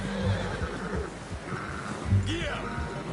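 A horse in the Red Dead Redemption 2 video game gives a short neigh late in the moment, heard under ongoing conversation.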